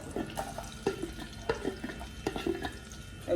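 Onions go into a pot of Ghanaian waakye (Hausa) stew, giving soft stirring scrapes and light sizzling, with irregular clacks of a spoon against the pot close by and no talking.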